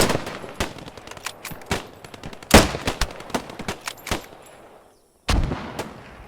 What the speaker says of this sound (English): listen to how you can tell that I missed my first shot while landing my second one